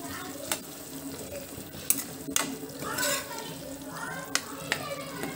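Tomatoes cook down in a pan for an Andhra-style okra chutney, a faint soft sizzle broken by a few sharp utensil clicks and scrapes, with a brief watery swish partway through.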